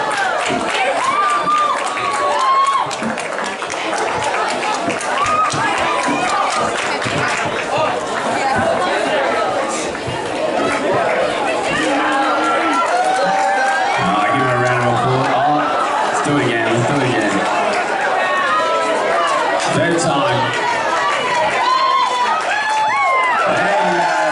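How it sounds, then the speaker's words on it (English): Stadium crowd cheering and roaring through a women's 100m hurdles final at an outdoor athletics championship on the Gold Coast, a loud continuous swell of cheers and shouts under an announcer's commentary. "And the crowd goes wild."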